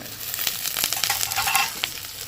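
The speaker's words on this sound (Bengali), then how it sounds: "এবার ভাজবো পেঁপে বাহ পেঁপেটা ভাজবো আর এর সাথে বিনসটাও ভেজে নেবো" Papaya and beans fry together in a pan. The close, steady sizzle carries intermittent crackles and stirring scrapes, with no speech.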